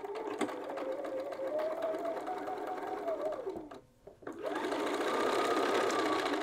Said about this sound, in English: And you're just gonna sew around the bag.